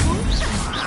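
Bombarda blast spell cast in Hogwarts Legacy, a short loud crashing whoosh with a swishing sweep, close and alone.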